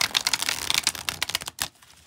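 A deck of thick, flexible oracle cards shuffled close by, producing a fast, dense run of riffling clicks and flutters that stops abruptly, followed by a single final snap.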